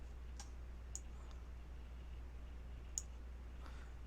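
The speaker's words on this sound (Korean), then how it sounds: "쉬프트 누르고 쭉 더블 클릭" Computer mouse clicks in CAD software, a few faint, sharp isolated ticks over a low steady hum from the room or machine, with no talking.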